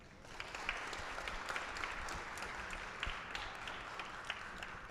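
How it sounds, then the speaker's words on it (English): An audience at an MIT Media Lab global AI hackathon gives teachers a round of applause: steady, dense clapping from a sizable crowd, sustained evenly throughout with a few sharper individual claps standing out. "Please give a round of applause to the teachers."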